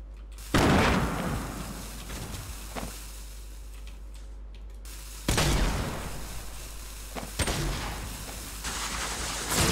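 Grenade explosions and gunfire in the video game Fortnite: loud booming blasts at irregular intervals, three or four big bursts with crackling shots and debris between them, close and dominant with no talking.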